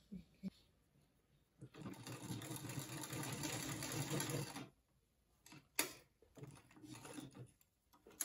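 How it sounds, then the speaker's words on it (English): A sewing machine stitches a seam on an Ankara fabric jacket in one short, steady whirring run of about three seconds, fairly faint, with soft handling clicks and rustles before and after. "After stitching down this first one, I'll come and top stitch the other side."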